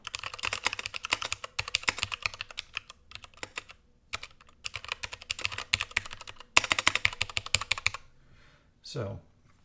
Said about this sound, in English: this definitely has a little bit more click to it as well, but that's really just from the keys bottoming out in the tray